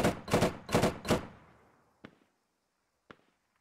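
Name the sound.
gunshots in video game Squad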